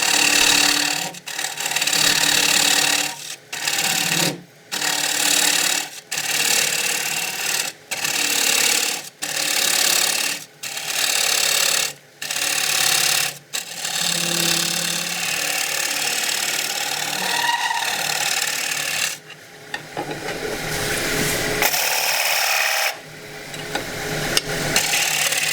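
A wood lathe gouge hollows a wooden tray, giving a loud, rough, close cutting noise in repeated bursts with short pauses, then a longer steady run.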